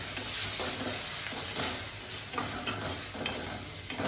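Cooked goat mutton being stirred into wild leafy greens in a hot pan makes a steady close sizzle, with a few soft scrapes and knocks from the spoon and no voices.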